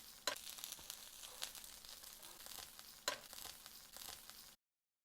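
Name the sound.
burger buns grilling in a pan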